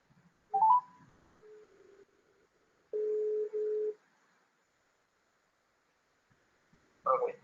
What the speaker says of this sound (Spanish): Alexander, me contestas tu celular para escucharte un momentico. A ver, ya voy a marcarte aquí